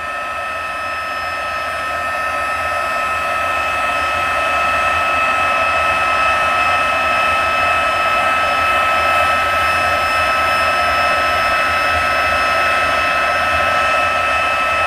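A heat gun blows steadily and loudly over embossing powder, holding an even, whooshing fan hiss with a faint high whine that never changes throughout.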